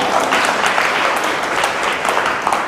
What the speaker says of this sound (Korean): 박수 한 번 더 치셔야 될 것 같은데.